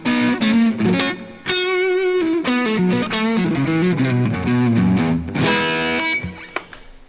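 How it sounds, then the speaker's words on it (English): Electric guitar played through heavy distortion with delay during a live stream, a run of loud, crunchy sustained chords and notes with sharp attacks, fading out at the end; no talking. "Probably don't need that much distortion."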